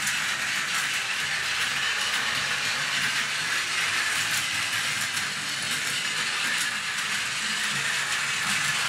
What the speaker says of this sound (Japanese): 列車を走行させてみます。